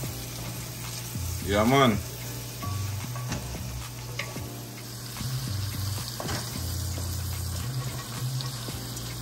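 Food sizzles in a pot while being stirred for Jamaican-style steamed fish, a steady frying crackle with a brief whistling tone early on and someone talking briefly over it.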